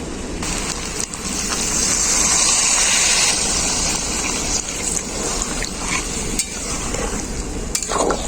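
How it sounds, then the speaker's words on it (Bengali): Water poured into mutton curry frying in oil, a loud rushing hiss and bubbling gush that stays dense and steady throughout, close up with no speech. "সময় আমি এর মধ্যে জল দিয়ে দেবো"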